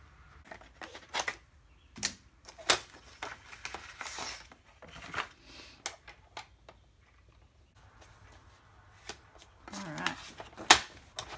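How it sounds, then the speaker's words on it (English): Sharp, irregular scissor snips and crinkly paper rustles while cutting paper for a journal cover, close up, in scattered bursts with quiet gaps between them. "I'll just eyeball it with my scissors."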